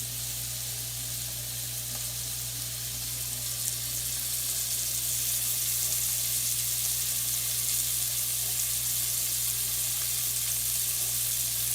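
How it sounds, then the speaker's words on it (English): Venison loin searing in a hot skillet, a steady close hiss and crackle of sizzling fat running evenly throughout, with a low constant hum beneath it and no talking. "We're just kind of browning the outside just a little bit."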